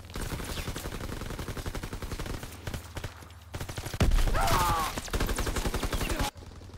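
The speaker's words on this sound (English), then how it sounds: "Where was that guy shooting from?" Rapid bursts of automatic gunfire rattle through a World War II video game battle. Loud, dense volleys repeat in quick rhythm, briefly pause, then resume, with one heavier crack standing out near the middle.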